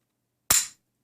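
One snappy, close metallic click as the trigger of a Smith & Wesson SD9VE pistol is pulled on an empty chamber, heard in isolation with a short decay.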